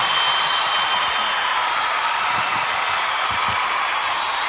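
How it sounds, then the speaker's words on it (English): A canned cheering crowd sound effect, a steady wash of applause and cheers that holds at an even, loud level from start to finish with no voices talking over it. "That's my cheering crowd."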